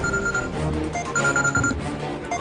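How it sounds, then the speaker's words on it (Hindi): A telephone rings with repeated bright electronic tones in short bursts, moderately loud over a low background hum, signalling an incoming call from a lawyer. "भाई वकील का फोन।"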